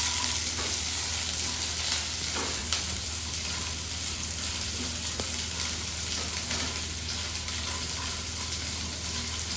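Onions sizzle with peanuts and garlic in a pan while chutney is made, a steady, dense frying hiss running throughout with occasional utensil scrapes and no talking.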